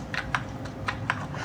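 A computer keyboard clicks in a few separate keystrokes at an unhurried, irregular pace, close and clear over low background noise, with no talking.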